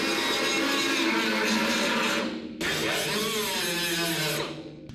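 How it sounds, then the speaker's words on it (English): An angle grinder cuts into the sheet metal of a 1973 Chevy truck bed during a long-bed to short-bed conversion. The whine is loud, close and continuous, breaks off briefly, then resumes with a wavering pitch. "I know where to grind that. So let's take some of our material off."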